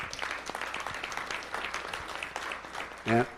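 Scattered audience applause at a talk by a speaker, patchy and fairly faint clapping from a modest crowd, ending with a short louder voice.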